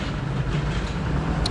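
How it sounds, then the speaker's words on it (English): Steady, loud roar of outdoor traffic and construction noise, a continuous rumbling wash with no clear pauses, close and unbroken. "Sorry about the noise, there's a lot of roadworks going on"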